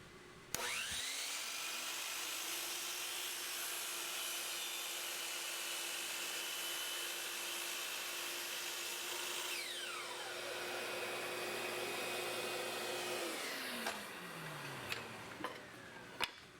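DeWalt miter saw spins up and slices a 30-degree miter in cherry wood for a fireplace mantel, a loud sustained whine through the cut before spinning down, followed by a few light knocks.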